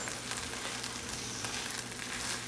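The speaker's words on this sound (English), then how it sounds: "I'm gonna stir it, give it a stir" Rice being stirred in a hot pan, giving a steady close sizzle and frying hiss with faint scraping from the stirring.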